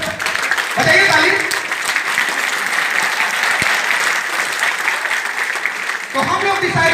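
An audience at a speech event bursts into loud, sustained applause that fills the room, with voices briefly audible at the start and end.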